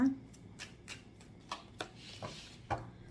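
Tarot cards being shuffled by hand, a series of soft, separate riffling and slapping bursts spaced about half a second apart, close and fairly quiet.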